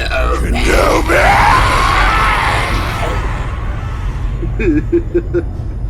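Darth Vader lets out an anguished, sustained scream, voiced by an actor with a re-synthesized voice of another actor layered in, loud and drawn out over a dense rumbling score before fading into quieter strained vocal sounds.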